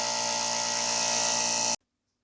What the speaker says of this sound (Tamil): இப்போ நீங்க ஃப்ரண்ட்ல வந்து பெடலிங் பண்ணும்போது மெஷின் வந்து ஸ்டார்ட் ஆயிடும்